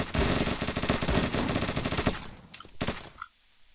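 Rapid bursts of gunfire from enemies in a video game, dense and continuous for about two seconds, then a few separate loud shots before falling quiet.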